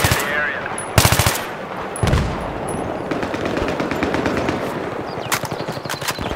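Automatic machine gun fire in the Battlefield 3 video game, rapid bursts of rattling shots with a few sharp single reports, loud and up close over constant battle noise.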